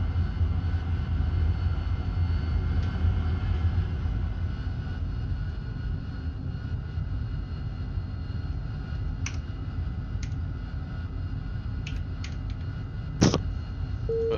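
A Grumman F-14 Tomcat jet in a flight simulation game taxis toward takeoff, a constant low engine rumble and whine with faint ticks and clicks over it.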